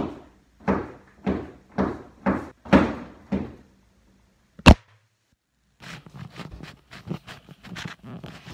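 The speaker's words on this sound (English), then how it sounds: "then his doors open and then close themselves a couple of times" Doors swinging open and shut on their own, giving a series of about six even, rhythmic knocking thumps, then one sharp loud bang followed by a second quicker run of clattering knocks.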